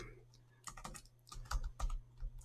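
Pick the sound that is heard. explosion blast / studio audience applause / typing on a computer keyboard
typing on a computer keyboard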